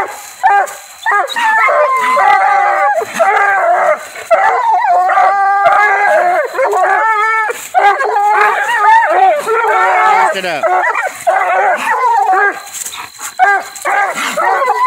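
Coonhound pup baying and yipping excitedly during training as bait is hoisted up and down, loud, close and continuous, with several dogs howling together.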